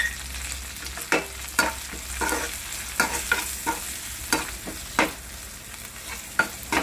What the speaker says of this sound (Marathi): कांदा आणि टोमॅटो भाजते